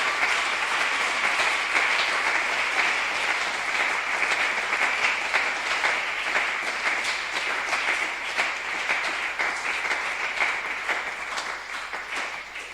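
An audience at a religious preaching gathering claps in loud, sustained applause for about twelve seconds, dense and even before easing slightly toward the end.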